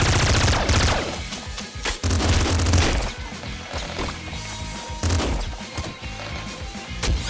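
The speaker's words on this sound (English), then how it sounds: "So an auto crossbow is a really great weapon." A rapid-firing auto crossbow launches bolts in the video game Nuclear Throne, with loud dense bursts of sharp thwacks and impacts rolling on in quick succession, pausing briefly between volleys.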